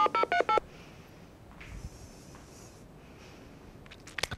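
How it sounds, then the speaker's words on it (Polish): Telephone keypad tones from a number being dialed on a phone: five quick, loud beeps in rapid succession, then near silence with faint background hiss and a couple of soft clicks at the end. "Szybko wybieramy numer telefonu"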